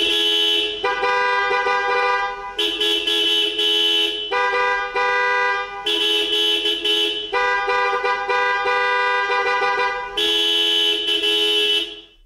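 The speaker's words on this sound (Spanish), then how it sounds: "podías elegir la nota o el tono de tu claxon" A 1984 Mercedes-Benz 500SEC horn sounds in long sustained blasts that switch between several selectable tones. The blasts are loud and close, with brief gaps, and continue for about twelve seconds with no talking.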